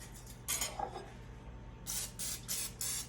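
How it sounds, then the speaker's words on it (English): Cooking spray is sprayed into a loaf pan in short hissing bursts: one longer spray, a pause, then four quick puffs. Quiet and close against a faint low hum. "spray your loaf pan."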